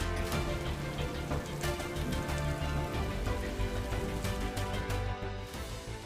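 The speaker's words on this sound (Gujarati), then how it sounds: "અમરેલીના બાબરા પંથકમાં સતત બીજા દિવસે ધોધમાર વરસાદ થયો।" Heavy monsoon rain pours down in Babra, Amreli district, Saurashtra, a dense and continuous patter of drops hitting surfaces, with no voices.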